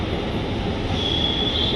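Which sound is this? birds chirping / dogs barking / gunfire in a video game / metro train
metro train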